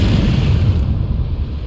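A Bombarda spell goes off in Hogwarts Legacy, a loud, full booming explosion with a deep rumbling body that rolls on and fades slightly over under two seconds, no speech.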